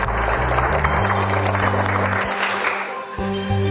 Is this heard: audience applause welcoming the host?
yes